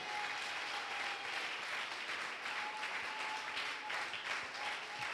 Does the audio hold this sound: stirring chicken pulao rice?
no